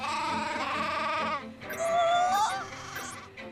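Sheep bleating in the Fullmetal Alchemist Brotherhood anime: a wavering, harmonic cry runs through the first half, then a second rising, quavering bleat follows, both close and fairly loud with soft background sound.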